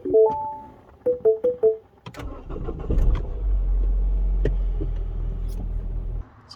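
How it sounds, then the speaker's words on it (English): A 2011 Mini Clubman R55 engine starts on fresh spark plugs, with a few short electronic chimes and a brief starter crank, then the engine catches and settles into a steady low rumbling idle before cutting off. "First start on fresh spark plugs."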